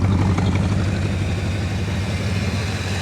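The engine of a 1966 Ford Country Sedan idles steadily with a low, even rumble and some exhaust burble, close and without talk.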